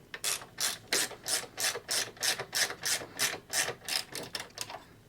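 A ratchet wrench tightens a crash bar bolt on a Harley-Davidson Road Glide, about a dozen quick, rhythmic clicking strokes, close and clear, with no talking.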